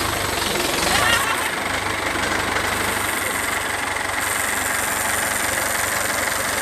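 A large farm tractor's engine runs steadily under load while hauling an old wooden boat up out of the water, a constant loud rumbling drone with a brief swell near the start.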